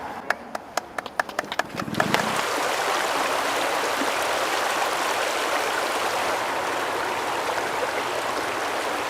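A river rushes steadily at a salmon fry release in Valemount, British Columbia. A broad, continuous roar of flowing water is heard after a few sharp knocks at the start.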